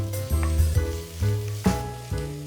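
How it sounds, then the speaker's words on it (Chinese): Bacon frying in a hot oiled pan, rendering its fat, a continuous close sizzle with a few soft bumps from moving the strips, no talking. "放入培根，煎出油脂，"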